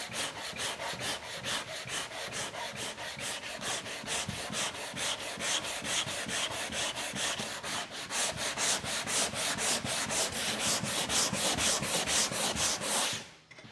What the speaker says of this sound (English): when I hit that with the sandpaper, it comes down pretty quickly